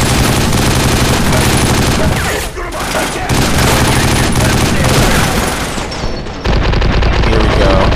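Sustained gunfire from the video game 50 Cent: Blood on the Sand, loud and dense bursts of shots with booming impacts, a brief lull near the middle, then continuing rapid fire to the end.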